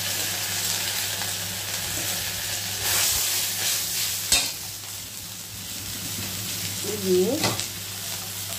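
Ginger paste and a spice mix hitting hot oil for a paneer dish, producing a loud, continuous frying sizzle with stirring scrapes and a sharp clatter partway through; a voice briefly speaks near the end.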